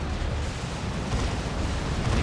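An assault cannon in Warhammer 40,000: Dawn of War II fires during a 3v3 battle against a Great Unclean One, a loud, dense, continuous roar of bursts and blasts with no pauses.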